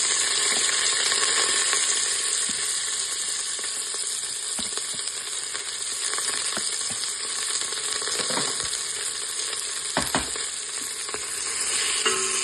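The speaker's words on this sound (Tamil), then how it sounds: "வெங்காயம் மிளகாயை கொஞ்சம் தாளிக்கு போடுவோம்." Onions and chilies fry in a hot pan for Hyderabadi chicken biryani with a steady, loud sizzle, broken by occasional scrapes and clinks of stirring.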